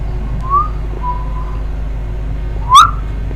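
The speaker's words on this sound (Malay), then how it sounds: "Bunyi siolan tu dia macam memanggil-manggil tau." Eerie whistling in a night-time ghost story set by a river: a few thin, separate whistles, two soft and drawn out, then a sharper rising one, heard alone over a low background rumble.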